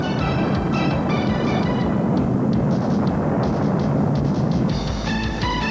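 A volcanic eruption explosion rolls out as a deep, sustained roar and rumble, loud and unbroken, with faint high ringing tones layered over it.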